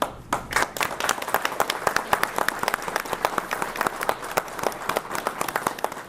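Audience applause at a justice center ribbon-cutting ceremony, dense rapid clapping from many hands, sustained and fairly loud throughout with no speech.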